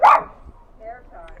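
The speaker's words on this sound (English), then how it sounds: "we don't want to bark at them" A dog on a small farm lets out one loud, close bark, followed by a softer whine or yip. No one speaks over it.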